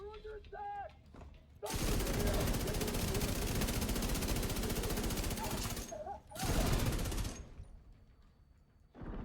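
Sustained light machine gun fire in The Division 2, a fast, loud stream of rounds that runs for about four seconds, stops, then comes back in a second short burst, with faint voices around it.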